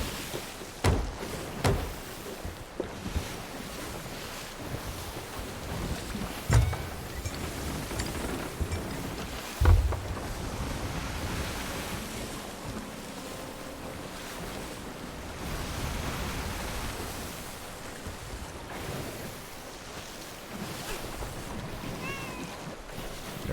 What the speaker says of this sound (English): I hear it sloshing up, filling with water.